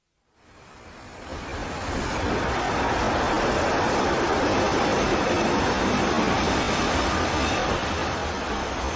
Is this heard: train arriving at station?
yes